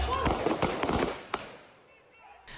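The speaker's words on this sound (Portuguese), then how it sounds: "Bombas, rojões e tiros com arma de fogo eram visíveis." Sharp cracking bangs of fireworks, bombs and gunshots pop in a rapid, irregular series amid crowd noise during a riot, then taper off into a quieter rumble.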